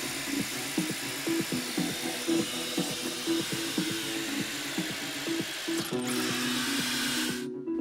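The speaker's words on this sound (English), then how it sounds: "Drilling the holes for the lag sleeves." A power drill boring holes in pavement for lag sleeves, with a steady whine and grinding broken up by short bursts and pauses, moderately loud and close. The sound stops abruptly at the end.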